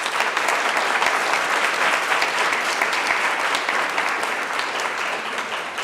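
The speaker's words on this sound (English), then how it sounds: "Round of applause for these." An audience at the 2025 Three Minute Thesis finals bursts into sustained, loud applause, a thick, even sheet of many hands clapping that holds for around six seconds and fades slightly at the end.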